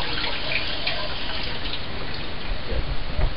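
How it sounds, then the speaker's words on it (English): Water poured into a container for a dog named Boss, a steady close rushing gush that runs continuously, fairly loud and without talk. "Hey Boss, you wanna put some more water in there?"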